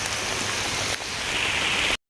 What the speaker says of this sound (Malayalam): ഫുൾ മഴ.